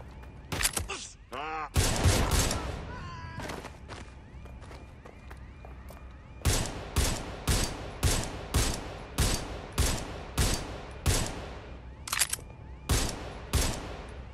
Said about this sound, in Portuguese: Levando tiro!